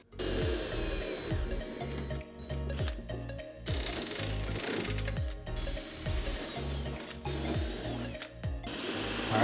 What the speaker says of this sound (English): we'll need to drill new holes